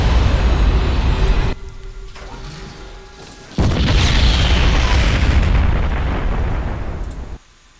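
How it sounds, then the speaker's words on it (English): A planetary fortress in a StarCraft II match is blown apart, with loud, booming blasts and rumbling explosions that cut out, then return in a sustained, crashing roar before ending abruptly. "The planetary fortress defending towards the large ball of units. And it's being destroyed."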